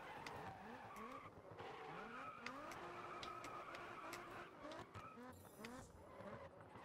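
Car drifting in GRID Autosport during a tuner drift event, with continuous sliding tire skid and squeal layered over a revving engine, rising and falling pitch sweeps throughout, loud and close with no talk.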